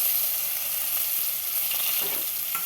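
Grated garlic hits hot oil already holding black cumin and chili, frying with a steady, close sizzle and faint stirring scrapes, with no voices.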